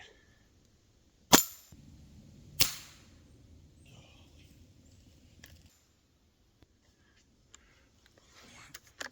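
A Ruger Air Hawk Elite II air rifle fires at a cheap swinging metal target, giving two sharp, loud cracks about a second apart, each trailing off briefly, followed by quiet ambient background and faint small clicks.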